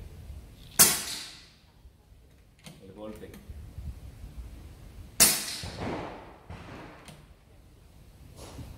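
Two sharp metallic smacks of 5.5 mm Kalibrgun Cricket Tactical 2 air rifle pellets striking a metal target 40 metres away, several seconds apart, each ringing briefly, with faint clicks and rustling between.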